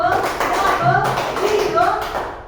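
Children in a primary classroom clap out a call-and-response clap pattern, a few sharp patterns of taps mixed with a teacher's voice calling the pattern over a busy room.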